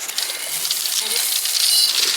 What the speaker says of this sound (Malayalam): നമുക്ക് ഇതിനകത്തേക്ക് കുറച്ച് ഗോതമ്പ് ഇട്ട് കൊടുക്കാം കേട്ടോ